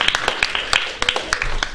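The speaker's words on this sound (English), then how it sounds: "So a round of applause, come to the front." Brief burst of audience applause, a handful of scattered claps in a classroom setting, close and moderately loud for under two seconds.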